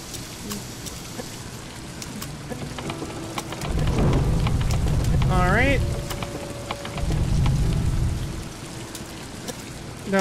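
Constant rain pours through a stormy night in the video game Scouting Party, with thunder rumbling in two low swells and a few small game tones and chimes over the downpour.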